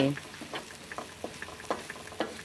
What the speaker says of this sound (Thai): เดี๋ยวผัดจนเหลือง